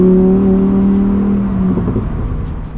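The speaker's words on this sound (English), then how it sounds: "when you switch it into sport, it just gets that more bassy, more growly, meaner exhaust." A Lamborghini Huracan Tecnica exhaust in sport mode drones deep and growly at a steady pitch, then fades into a rougher rumble, close and fairly loud.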